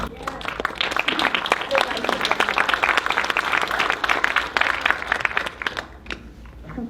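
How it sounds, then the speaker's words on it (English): Audience applause breaks out at a Texas Democratic Senate candidate forum, a dense, steady patter of many hands clapping at close range that lasts several seconds before tapering off, with voices mixed in. "I'm going to join in the applause on that."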